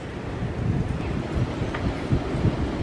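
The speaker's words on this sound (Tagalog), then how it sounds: "grabe ang hangin" Strong wind from a snow storm roars steadily against the microphone, a dense low rumble with gusty swells and buffeting throughout.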